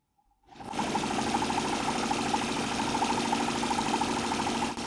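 A homemade Stirling engine fitted to a bicycle runs steadily after a quiet start, giving a fast, even mechanical chugging with a rapid whirring pulse throughout.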